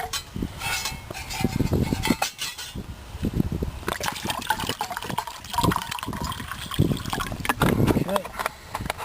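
Half a litre of water poured into a camping cook pot, bursts of splashing and trickling liquid in short uneven runs, close and moderately quiet, with some handling clatter between pours.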